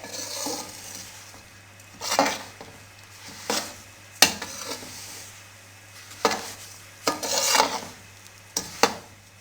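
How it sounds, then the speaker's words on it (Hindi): A spoon stirs semolina roasting in a pan on a low flame, giving soft scraping strokes in irregular bursts with a faint sizzle between them, close and fairly quiet. "लो फ्लेम पे मुसलसल चम्मच हिलाने से सूजी का कलर चेंज हो चुका है"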